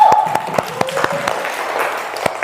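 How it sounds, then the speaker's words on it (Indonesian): Classroom of students clapping for their group work, a loose round of distinct hand claps with uneven rhythm, fairly close, while a voice briefly sounds underneath. "Tepuk tangan untuk kita semuanya."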